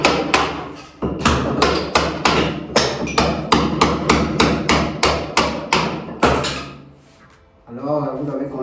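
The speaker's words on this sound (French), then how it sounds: "moi j'utilise la perceuse et le marteau" A hammer knocks wall tiles loose in rapid, loud, regular blows, about a dozen strikes in a row, ending with a brief rattle of falling pieces and then a quieter stretch.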